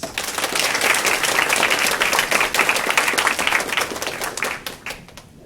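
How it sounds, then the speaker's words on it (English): An audience at a professional conference talk applauding, dense steady clapping that swells briefly and then tapers off toward the end. "Please give them a round of applause."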